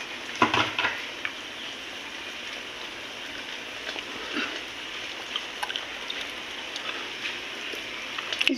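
Jackfruit pitha batter fries in oil in a kadai over low heat, a soft continuous sizzle with a few brief clinks and bursts near the start and end, no voices.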